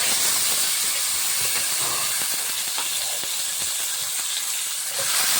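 Jujubes drop into hot oil already spiced with chillies and five-spice seeds, setting off a loud, continuous sizzling hiss that stays close and even throughout, with no talking.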